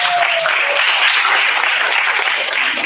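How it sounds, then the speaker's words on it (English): Steady, loud applause from an audience at a media literacy forum in Sarawak as panelists are invited down, dense continuous clapping filling the whole stretch. "let's give them a round of applause"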